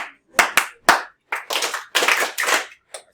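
A class of middle-school students claps together in a math classroom, loud and close, in a string of about eight sharp bursts that start as single slaps and blend into short rough rounds of applause.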